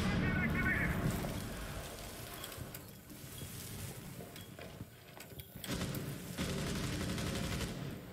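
A flashbang and bursts of gunfire in a Rainbow Six college esports match between Marietta College and Army West Point, a dense clattering barrage of shots and game effects under continuous commentary.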